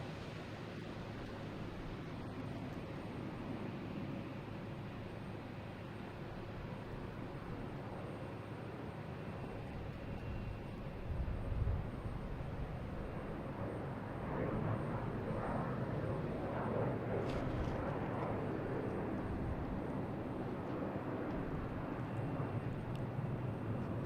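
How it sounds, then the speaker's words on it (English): An American Airlines Embraer E175 jet takes off at Boston Logan Airport, heard as a steady, distant broadband engine roar that swells slightly in its second half. "We have American Airlines here taking off, heading to Philly. E175, flight 4717."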